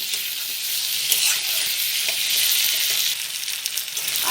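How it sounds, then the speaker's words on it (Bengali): Potatoes and onions fry in a pan for a prawn, ridge gourd and potato curry, giving a loud, steady close-up sizzle with faint stirring scrapes and no speech. "আলু এবং পেঁয়াজের মধ্যে ভালোভাবে ভাজা হচ্ছে।"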